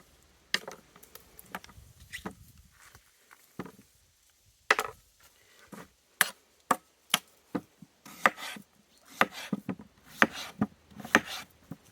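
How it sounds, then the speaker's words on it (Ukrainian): A knife chopping pumpkin into pieces on a cutting board for homemade pumpkin wine, sharp irregular chops and taps that speed up into quick rhythmic cuts, close and clear with no talk. "Я потім ріжу на такі шматочки, щоб потім мені було легше його натирати"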